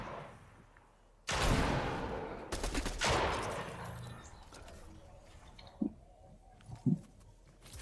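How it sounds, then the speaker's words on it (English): Bursts of MK7 assault rifle gunfire in a video game erupt loud and close in rapid fusillades, then fade into scattered softer shots and clicks. "I'm using the MK7 assault rifle"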